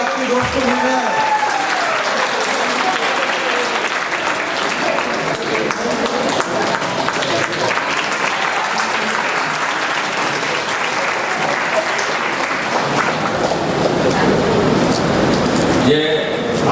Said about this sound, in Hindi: ताली बजाते रहिए, आपके दोस्त को मिल रहा है